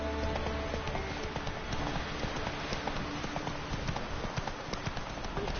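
A horse gallops along in The Witcher 3 video game, the hooves a steady, dense clip-clop rhythm over a continuous, even bed of game ambience, with no talking.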